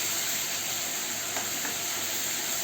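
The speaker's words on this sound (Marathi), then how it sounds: "वाटण छान परतून घ्यायचंय." A ground spice paste with garlic for horse gram curry fries in hot oil, giving a close, continuous sizzling hiss at an even level with no talking.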